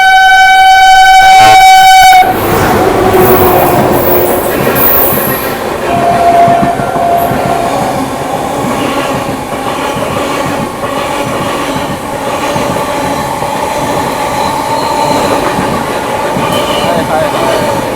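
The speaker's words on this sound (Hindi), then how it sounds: "पहला overtake Prayagraj new Delhi Humsafar express." A Prayagraj–New Delhi Humsafar Express, an Indian passenger train, rushes past at speed during an overtake. A loud, close roar of wagons and clattering wheels with some squealing follows a brief horn-like tone at the start, and speech is faint underneath.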